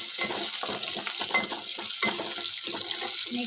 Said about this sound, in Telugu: ఉల్లిపాయ ముక్కలు వేసుకొని కొంచెం వేగనిద్దామండి. ఇవి కొంచెం వేగాక పచ్చిమిర్చి మూడు వేసేస్తున్నానండి.